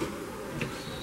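Bees buzz at an apiary hive, a steady close droning hum lasting about a second with no voices.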